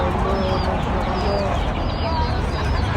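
Local-breed roosters and other fowl at a busy bird market on Al Hair Road, clucking and crowing faintly amid dense crowd noise, with people talking nearby.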